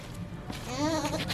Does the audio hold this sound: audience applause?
no